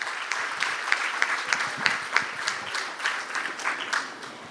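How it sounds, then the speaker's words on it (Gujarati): An audience at a women's association anniversary function claps for the committee women, steady dense applause with sharp individual claps standing out, sustained throughout at close-to-moderate distance. "એકવાર જોરદાર તાળી કમિટીના બહેનો માટે"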